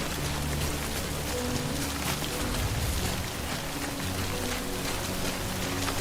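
Steady rain falls in the video game Death Stranding 2, a dense, even hiss of drops on surfaces that fills the whole stretch without pause, loud and close, with no talking.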